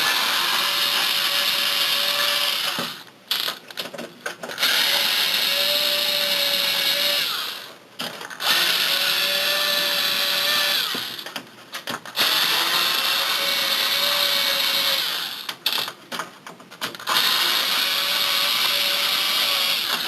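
An electric screwdriver backs large screws out of a PS3 80GB console with a loud whirring, ratcheting drone. It runs in several bursts a few seconds long, separated by short pauses.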